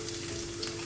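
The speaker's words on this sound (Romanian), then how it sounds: "În ulei uncins adăugăm ceapa tocată" Chopped onion sizzles in hot olive oil for a peas and chicken breast dish, a steady, close, crackling hiss that runs unbroken with no one talking.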